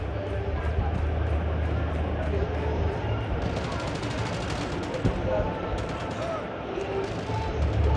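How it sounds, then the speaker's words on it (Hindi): Gunfire in Call of Duty: a continuous rattle of rapid shots and automatic bursts over a heavy rumbling bed, steady and loud throughout. "अरे क्या गोली चला रहा है?"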